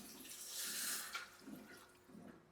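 Water is poured into a pan for semiya (vermicelli) upma, about one and a half glasses for each glass of semiya, giving a soft, close splashing gush in a couple of short surges, with no talking.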